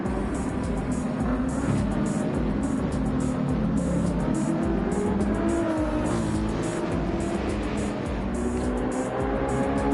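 Race cars roar continuously around a track in the closing laps of a race in Japan, a dense, loud wash of engines passing with occasional tire squeal throughout.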